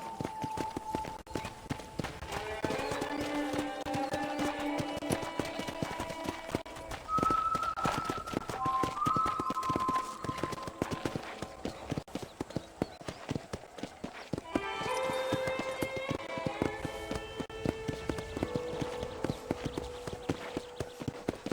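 Steady clip-clop of horse hooves at a trotting rhythm in Red Dead Redemption, moderately loud, with melodic musical tones playing over it.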